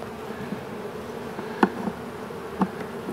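Honey bees drone steadily inside a hive, a continuous buzzing hum broken by a couple of brief clicks and taps, with no voices over it.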